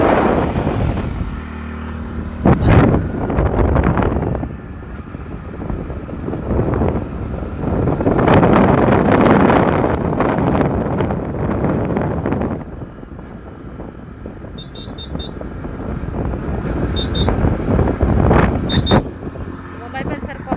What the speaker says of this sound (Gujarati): મોબાઈલ પણ સરખો પકડવો પડે, તો વાયડામાં ઉડીને જતો રહે મોબાઈલ. પવન બહુ લાગે.